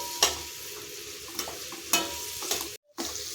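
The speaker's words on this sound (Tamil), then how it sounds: "ஸ்டவ்வை மீடியம் ஃப்ளேம்லேயே வச்சு நல்லா இதை வதக்கிக்கலாம்." Onions with curry leaves and turmeric sautéing in a pan over a medium flame, a soft, quiet sizzle under a few scraping spoon stirs.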